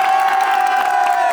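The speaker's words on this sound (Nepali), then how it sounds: "ल ताली" A live audience cheers loudly at a stage show, a continuous roar of shouting and whoops from a close crowd, with clapping buried beneath the voices rather than standing out.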